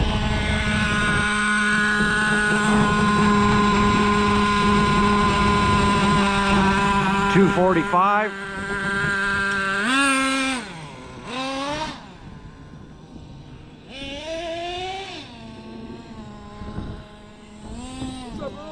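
A Traxxas T-Maxx nitro RC truck's engine whines loudly and steadily, then revs up and down in bursts as the throttle is worked, with people talking over it.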